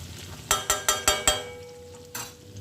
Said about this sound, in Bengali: এখানে আলু পেঁয়াজ সমস্ত মশলা দিয়ে ফ্রাই করা হচ্ছে।